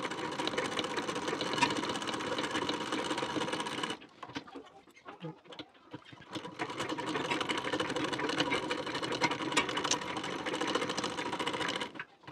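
A sewing machine stitches a blouse in fast continuous bursts, loud and close, pausing briefly midway before running again, with faint background noise and no talk.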